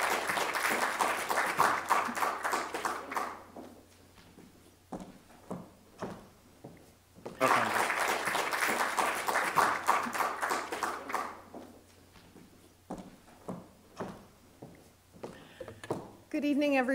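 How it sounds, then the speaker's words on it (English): An audience applauds to welcome Mary Cummings at an evening talk, with two bursts of dense clapping separated by quieter scattered claps and room noise. "let's give a round of applause to welcome Mary Cummings"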